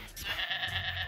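A goat bleats at close range during a live art performance, giving a short wavering cry that lasts about a second.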